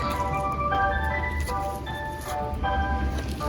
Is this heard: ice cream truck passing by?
yes